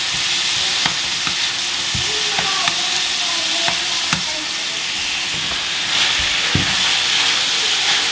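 Meat sizzles steadily in a hot pan while a utensil scrapes and taps through it in scattered strokes, close and continuous.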